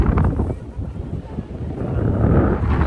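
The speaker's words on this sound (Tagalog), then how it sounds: "Sobrang hangin." Strong wind blasts across the microphone at the windmills in Ilocos, a loud continuous rumbling roar with gusty swells and no other clear sounds.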